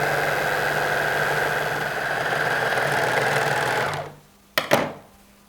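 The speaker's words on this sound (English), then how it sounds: "And then I will start from the top and sew the sides." A sewing machine stitches the sides of sheets with a steady, even motor hum for about four seconds, then stops, followed by two sharp clicks.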